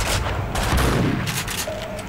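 Gunfire in the video game Max Payne 2, a dense burst of overlapping shotgun and rifle blasts, loud and close, with rapid booming reports packed into a couple of seconds.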